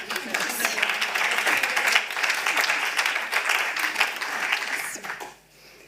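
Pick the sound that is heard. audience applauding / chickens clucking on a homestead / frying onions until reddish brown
audience applauding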